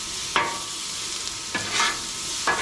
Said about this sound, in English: mix that up together a little bit